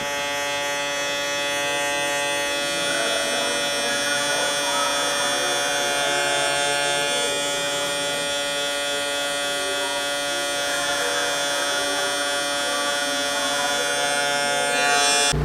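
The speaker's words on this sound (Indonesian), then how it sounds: "Kita menggunakan guard setengah, levernya kita menyesuaikan dari close ke open." Electric hair clipper fitted with a half guard cuts hair for a shadow fade, a close, steady buzzing hum that holds without a break through the whole stretch, with slight changes in tone as it moves across the head.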